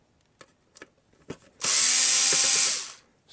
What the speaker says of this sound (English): So far, all the screws have been the same Torx screwdriver.